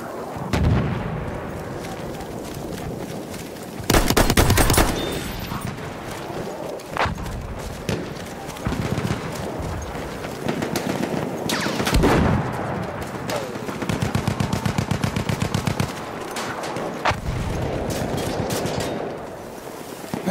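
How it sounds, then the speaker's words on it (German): Machine gun fire rattles through Battlefield 1 combat at Fort de Vaux, with loud, close bursts and rapid rattling volleys mixed with heavier blasts and distant shots, under occasional faint voices. "Aufpassen, Maschinengewehr!"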